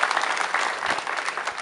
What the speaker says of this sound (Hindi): आइए पुनः हम उन प्रदेशवासियों को तालियों से स्वागत करते हैं।